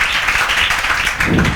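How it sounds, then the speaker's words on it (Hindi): A brief, dense burst of group clapping from a class during a lecture, steady and fairly loud, with no voices. "बजाओ तालियां, बजाओ, जल्दी बजाओ"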